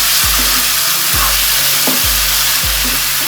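Chicken frying over medium heat in a pan, with a steady broadband sizzle throughout and several soft, periodic stirring scrapes or low thumps, close and fairly loud.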